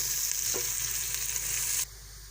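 Onions fry in a pan for chicken karahi, giving a steady close sizzle with a brief stirring scrape near the start, and then the sound drops abruptly to a quieter hiss toward the end.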